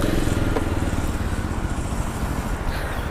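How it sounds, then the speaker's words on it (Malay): A single-cylinder 250cc motorcycle engine runs at a dealership, heard close up as a steady, loud, throbbing idle without a break. "Single cylinder punya motor 250cc. Okey, kita cuba dengar bunyi dia."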